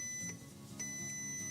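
A faint, high electronic beep sounds steadily, pausing briefly and resuming, over a low background rumble, from an MK6 Volkswagen Golf R.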